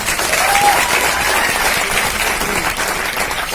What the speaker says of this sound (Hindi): सबसे पहले ताली बजाओ एक बार और।